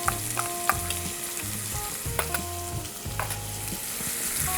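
Onions and garlic hit hot oil for a one-pot vegetable dal, sizzling steadily up close while a utensil stirs and scrapes in regular strokes, with no voices.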